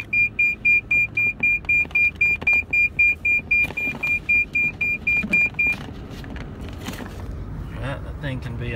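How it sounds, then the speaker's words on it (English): Seatbelt warning alarm in a 2009 Ford F350 diesel crane service truck, a rapid run of evenly spaced high beeps for about six seconds that then stops, with cab noise and a quiet engine rumble underneath. "You got a seatbelt alarm too"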